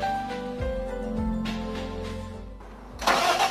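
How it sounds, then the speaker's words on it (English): An XCMG GR series motor grader diesel engine cranks and catches, with starter whine and low mechanical rumble building into a steady running note, then a sharper louder burst near the end, heard close with no talk. "Start the engine and run for 10 minutes until the coolant temperature is increased."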